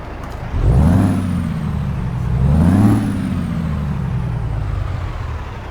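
A Peterbilt truck engine in American Truck Simulator revs twice while in neutral, each deep throaty surge climbing and falling back to a steady rumbling idle, loud and close with no one talking.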